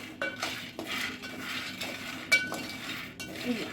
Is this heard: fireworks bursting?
no